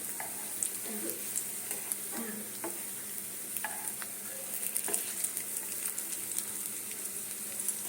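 Potato, green mung and cheese pakoras fry in hot oil with a soft, steady sizzle, broken by scattered clinks and scrapes of stirring, fairly quiet and close.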